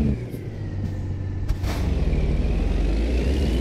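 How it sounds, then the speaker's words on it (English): Heavy truck engine brake (Jake brake) rumbling loud and close as a steady low drone with a brief hiss near the midpoint, continuous throughout without talk. "That's how a real Jake break should sound."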